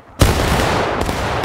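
A musket volley fired on command in a video game skirmish, one loud sudden blast bursting out of near silence, with a rolling roar that carries on and a second faint crack just after.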